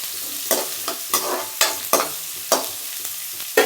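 Chopped small onions sizzle in a pan for mutton chukka while a spoon stirs them in repeated scraping strokes, close and clear with no voices.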